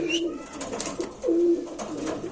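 Pigeons cooing close by at a pigeon market, several low, throaty coos repeating over a busy background with faint voices.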